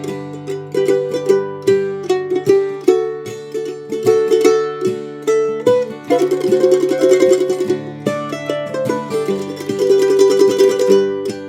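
Mandolin melody of the folk tune Banks of the Ohio with double stops, fast tremolo passages and improvised phrases, plucked notes ringing close and clear with no voice over it.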